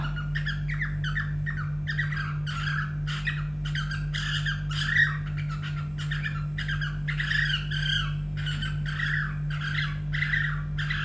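A cockatiel whistles and chirps in bright, repeated warbling phrases over a steady low hum, continuing throughout.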